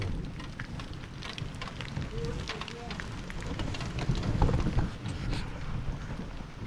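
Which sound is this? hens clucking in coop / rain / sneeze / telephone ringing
rain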